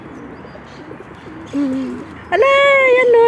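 Pigeons perched on a person's hand give soft, low cooing calls in two short bursts, with a voice speaking briefly close by.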